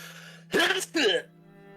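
A single close sneeze comes in two sharp, quick bursts, loud against a steady low electrical hum, then quiet.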